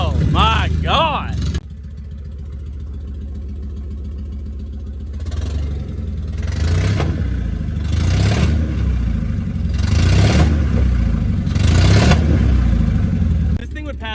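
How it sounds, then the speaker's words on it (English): An abandoned 1984 Mercedes wagon that sat for 10 years runs on old fuel, its engine idling with a rough clatter and swelling in repeated revs, with people talking excitedly over it at first. "We pulled this straight out of the woods and it fucking starts."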